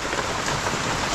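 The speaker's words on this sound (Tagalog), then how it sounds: "Puro ulan na lang ng ulan." Steady afternoon rain falls outdoors in a dense, even hiss of drops on surfaces, with no voices.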